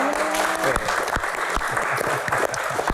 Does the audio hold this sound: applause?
yes